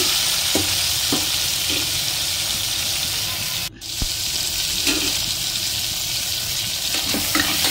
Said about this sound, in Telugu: అండ్ టమోటా ఆనియన్ బాగా వేయించుకోవాలి. బాగా వేయించేస్తున్నాను.